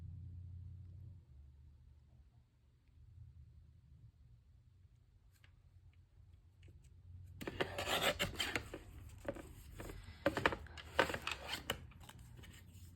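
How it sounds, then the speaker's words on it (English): Paper being trimmed for a handmade scrappy card, a close raspy run of slicing and rubbing strokes in the second half after a quiet low rumble, with no talking. "I think I'm gonna trim off a tiny bit from this side so that it looks a little more even"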